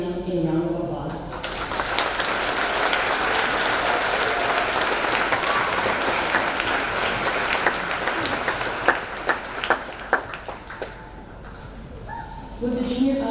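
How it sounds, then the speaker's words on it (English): A high school graduation audience applauds in a large hall, sustained clapping filling the room for most of the stretch, with a few sharper individual claps near the end before a voice returns. "Please join me in giving them a round of applause."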